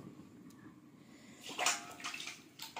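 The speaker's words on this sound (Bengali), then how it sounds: "হাতটা ধুয়ে নি।" Hands being washed under a running kitchen tap, a steady splash of water that swells louder midway with sloshing bursts, close by with no talking.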